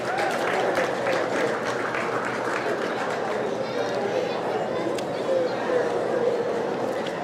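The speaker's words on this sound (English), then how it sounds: "Let's give him a round of applause." An audience at a county 4-H fair meat goat show applauds the judge, a steady patter of clapping under crowd chatter and voices that carries on at a moderate level throughout.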